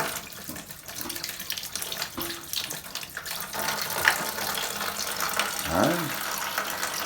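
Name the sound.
toilet tank refilling with water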